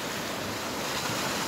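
Sea waves wash in a steady, dense rush of surf noise with wind buffeting the microphone, loud and continuous with no voices.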